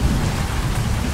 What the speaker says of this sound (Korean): 갑자기 비가 내리기 시작합니다